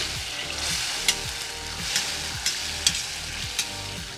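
Grated tomato frying in a cauldron over a campfire for Georgian kharcho soup, a dense, loud hiss of sizzling with a few sharp spatters and stirring scrapes, close up and without talk.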